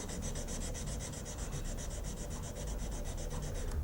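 Hand sanding of a knife blade to remove grit marks, a steady rhythmic rasping scrub of abrasive strokes back and forth, close and continuous throughout.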